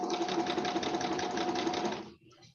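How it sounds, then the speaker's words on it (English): A sewing machine runs at a steady fast stitching rhythm, close and fairly loud, for about two seconds before it stops abruptly, leaving faint room noise. "Oh, is my sewing machine loud?"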